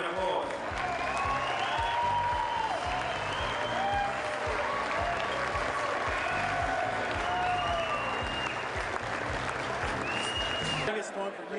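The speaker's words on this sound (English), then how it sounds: "Please give them a round of applause." An audience at the Finke Desert Race 2005 presentation night bursts into sustained clapping for the top finishers, a dense, loud applause that carries evenly for about eleven seconds before cutting off.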